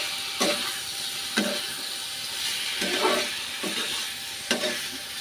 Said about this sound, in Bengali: এবার এই মশলাটা 5 মিনিট মতো একটু হালকা গরম জল দিয়ে দিয়ে আস্তে আস্তে কষতে হবে